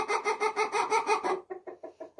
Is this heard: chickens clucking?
yes